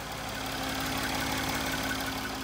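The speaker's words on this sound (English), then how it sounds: "You can hear the compressor's kicked in" A Mercedes ML350 air suspension compressor runs steadily at close range, a continuous mechanical hum with a low whine and a vibrating, idling-engine-like drone, alone with no voices.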